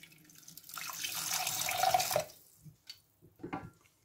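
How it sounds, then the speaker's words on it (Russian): Water pouring from a container into a pot for a lemongrass broth in a home kitchen, a steady splashing stream for about a second and a half, then a few scattered drips and small splashes. "ну и добавлю немного воды."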